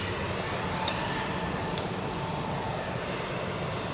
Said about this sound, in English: on the way to runway 28, we have two Edelweiss A340s taxiing simultaneously